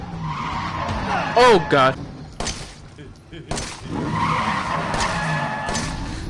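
Tires skid and screech as a car drifts in the VR horror game Resident Evil 7, with loud wavering squeals and crashes under frantic talk from a player.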